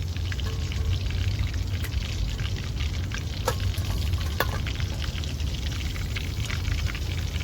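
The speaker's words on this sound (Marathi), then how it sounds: "दुसरे पण चिकनचे पीस राहिलेले घालून घेते मी तेलात" Chicken pakoda pieces frying in hot oil, a loud continuous dense sizzle and crackle with scattered pops throughout, no voices over it.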